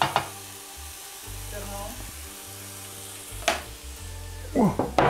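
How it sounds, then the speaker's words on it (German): Garlic, onion, chili and salt frying for nasi goreng on a teppanyaki plate, a soft steady sizzle with intermittent scraping and clinks of a utensil, under a low electrical hum. "Und das brate ich jetzt hier noch so ein bisschen an."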